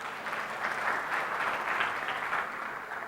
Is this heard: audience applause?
yes